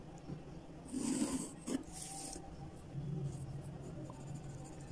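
A marker squeaks across a board in a couple of short strokes, drawing a line for a triangle geometry lesson, faint and close in a quiet room.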